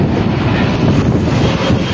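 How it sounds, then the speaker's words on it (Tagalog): Strong wind in Tagaytay, Philippines, roars loudly and continuously against the microphone, a dense rumbling buffet with no pauses. "Ang tindi ng hangin."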